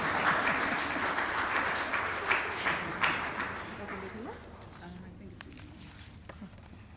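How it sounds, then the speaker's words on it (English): Applause from an audience at a primary school graduation, a burst of clapping with a few louder claps that fades out as talk begins. "Please clap."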